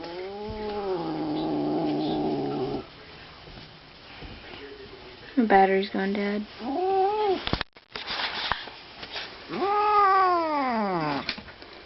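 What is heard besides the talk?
cat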